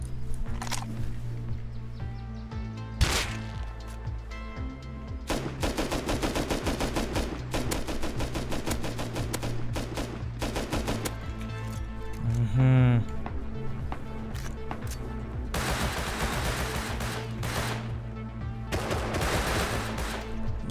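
Rapid automatic gunfire bursts in the survival game Rust, loud and repeated over a dense mix of in-game sound, with voices talking throughout.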